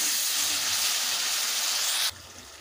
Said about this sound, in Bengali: এবারে দিয়ে দেব ভেজে রাখা আলুগুলো, আর দিয়ে দেব সামান্য জল বাটি দিয়ে।